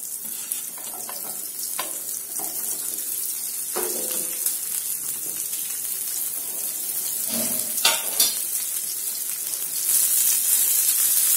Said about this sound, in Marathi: तेल व्यवस्थित झालं की आता आपण याच्यामध्ये आपल्या भेंड्या टाकून घेऊया।